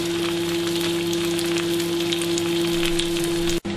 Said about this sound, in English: When your sauté pan is good and hot, throw in the potatoes to fry.